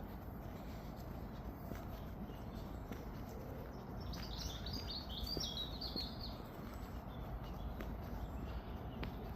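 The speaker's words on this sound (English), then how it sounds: "There's absolutely loads of birds in here," A small bird trills a quick, faint chirping phrase at a distance amid steady outdoor rumble and light footsteps during a walk through a flowering park by a hall, with no talk.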